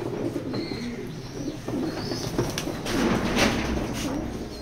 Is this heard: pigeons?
yes